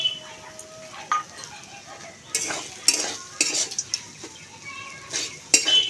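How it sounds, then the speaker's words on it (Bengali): A spoon stirs and clinks in a pan of sizzling pumpkin leaf filling with roasted cumin and dried chilli powder, intermittent metallic scrapes over a soft frying hiss. "ভেজে রাখা জিরে আর শুকনো লঙ্কাটা একটু গুঁড়ো করে নিয়েছি ওপর থেকে দিয়ে দিচ্ছি একটু ভালো করে নেড়ে চেড়ে নেবো"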